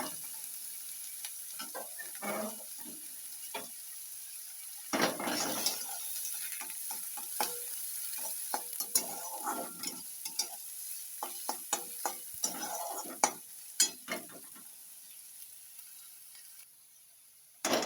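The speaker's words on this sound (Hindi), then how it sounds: "तापरे पियाज को भाजीबा। अल्प समय पियाज को भाजीबे।" Onions fry and are stirred in a pan for corn upma, with a faint steady sizzle under many short, irregular scraping and clinking strokes, close and quiet, no speech.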